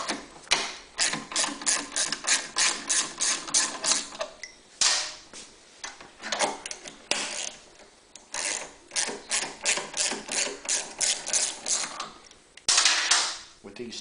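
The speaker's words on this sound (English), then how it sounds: "What you can do, if it makes your life easier, is simply unscrew these bottom studs." Bottom studs on a Honda EU3000iS generator cover being unscrewed with a ratchet, close and fairly loud, in quick bursts of rapid clicking separated by short pauses.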